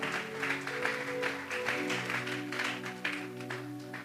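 A church congregation claps together in steady rhythmic applause, a continuous layer of hand claps with music or sustained tones underneath, fairly close and full.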